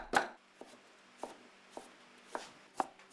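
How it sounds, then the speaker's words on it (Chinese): Pork belly being chopped into mince with a cleaver on a board for Hakka stuffed fish tofu: sharp, separate thwacks at an uneven pace, close and clear with quiet gaps between them. "花肉剁成肉末"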